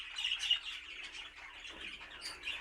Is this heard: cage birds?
yes